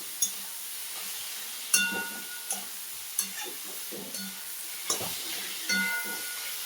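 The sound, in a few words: eggplant sautéing in a pan with turmeric and salt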